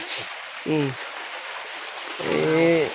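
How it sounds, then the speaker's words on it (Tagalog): Heavy rain pours steadily during a storm on a rough mountain road, a dense constant hiss throughout, with low rumbling, growling bursts breaking through twice beneath it. "Maulan."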